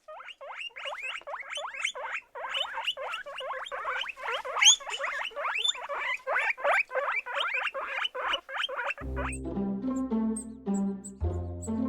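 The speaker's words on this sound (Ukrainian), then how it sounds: "Як каже морська свинка." Guinea pig squeaking in a long run of rapid, rhythmic high chirps and squeals, close and steady for about nine seconds before giving way to music.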